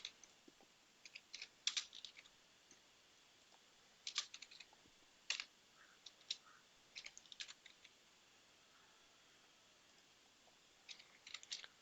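Intermittent bursts of typing on a computer keyboard, with quick clusters of light key clicks separated by short pauses, close but fairly quiet with no talking.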